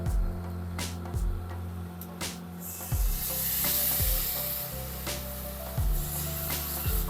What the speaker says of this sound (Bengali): মশলাটা খুব সুন্দর কষানো হয়ে গেছে এই অবস্থায় আমি দিয়ে দেব অল্প একটু তেঁতুলের পাল্প